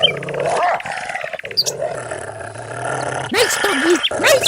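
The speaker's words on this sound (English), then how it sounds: "Nice doggy! Nice doggy!" Video game dog growling and snarling in a Super Mario Bros. setting, loud and close in repeated bursts mixed with game sounds, and a voice speaks over part of it.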